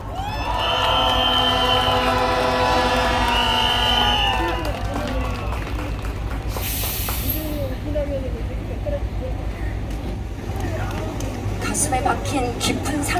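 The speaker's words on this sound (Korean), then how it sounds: "힘찬 박수로 모시겠습니다." At a candlelight rally honoring a Seoi Elementary School teacher, a large outdoor crowd loudly claps and cheers to welcome an elementary school teacher to the stage. It is a dense, continuous roar, with a voice over it at the start.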